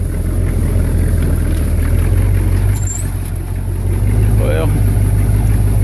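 A hot rod motor idles out in the country woods, a loud, continuous low rumble that holds steady throughout while someone briefly speaks over it.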